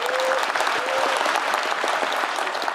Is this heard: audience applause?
yes